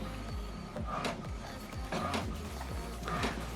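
An HP Deskjet All-In-One printer prints an alignment page: quiet, repeated mechanical sweeps of the moving print carriage, with soft whirring strokes about once a second.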